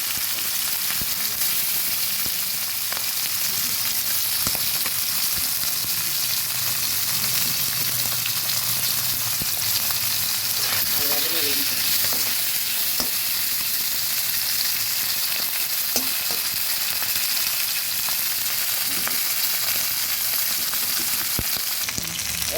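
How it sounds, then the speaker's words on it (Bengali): Continuous crackling sizzle of small tengra fish frying in hot oil, dense and even throughout, with no voices. "ব্যাস ট্যাংরা মাছ আমার ভাজা হয়ে গেছে"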